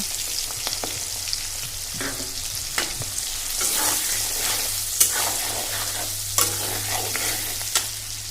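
Chillies frying in oil with ground spice paste for a pickle, a steady close sizzle broken by repeated spatula scrapes and clacks as they are stirred.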